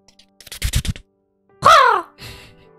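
A person mimics a crow's caw with one loud, drawn-out rising-then-falling call, followed by a quieter vocal burst, after a short stretch of close talking.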